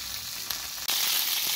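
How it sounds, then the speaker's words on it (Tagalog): Shrimp frying in hot oil in a pan, with a close, loud, continuous sizzle and a sudden burst of sharper crackling as the oil spatters. "Tumalsik yung mantika guys."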